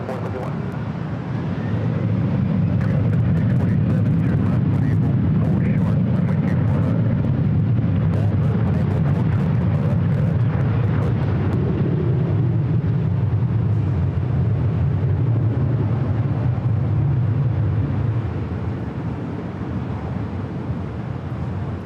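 Condor airliner in Green Island livery, flight to Frankfurt, taking off at LAX, a sustained loud low jet roar that holds for most of the time then eases off, with faint talk mixed in.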